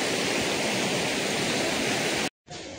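A Himalayan mountain river on the North Annapurna trek in Nepal rushes in a loud, steady roar of turbulent water that fills the whole clip, briefly cutting out near the end before resuming.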